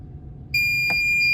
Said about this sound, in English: hold it down until it beeps at me